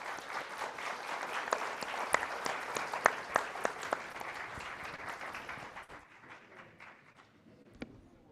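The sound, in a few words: audience applause for panel discussion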